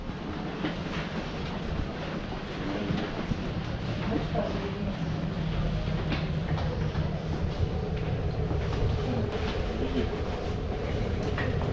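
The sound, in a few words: train arriving at Samara railway station platform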